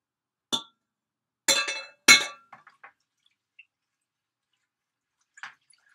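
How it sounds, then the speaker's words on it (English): A spoon knocks and clinks against a glass in a few sharp, close taps with short gaps between them, and a single faint clink follows after a pause. No voices are heard. "stir that spoon around"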